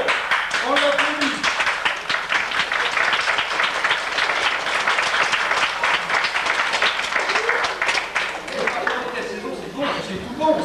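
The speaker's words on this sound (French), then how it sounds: "Bravo, bravo, on l'applaudit." Audience at a village festival revue in Buchy applauds steadily and loudly throughout, dense clapping filling the space with a few voices calling out on top.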